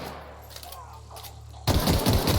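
Gunfire from marauders in a video game crackles in sudden loud, rapid bursts after a quieter stretch of faint in-game ambience.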